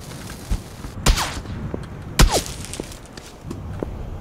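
Gunfire in the video game PUBG: a few sharp, loud separate shots with short echoing tails, plus softer distant pops and thuds between them.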